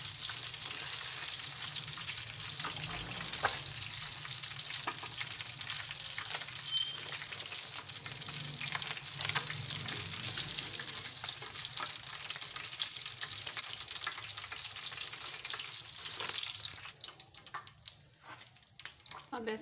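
Fish pieces in Lahori-style fish fry crackle and sizzle steadily in hot oil, a loud close hiss with stirring sounds that drops away near the end.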